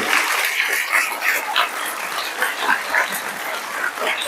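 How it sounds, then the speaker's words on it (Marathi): A crowd applauds in a lively burst of steady, overlapping clapping at a couple's birthday celebration with a school uniform distribution, carrying on throughout. "तर आता एकदा जोरदार टाळ्या या दोघांसाठी"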